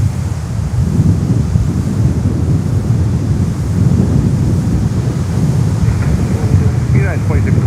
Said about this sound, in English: really intense, the wind